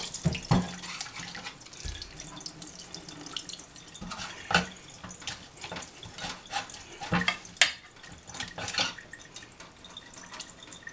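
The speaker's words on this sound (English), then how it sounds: "place it in a colander, and then we're going to drain it with cold water" Cold tap water runs steadily over grated yuca (cassava) in a colander, splashing and dripping with occasional louder spatters as the wet mass is shifted and drained.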